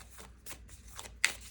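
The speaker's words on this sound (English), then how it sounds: "I'm going to shuffle some cards here" Oracle cards being shuffled by hand, several short papery riffles and slides close to the microphone, ending in a sharper snap, with quiet room background.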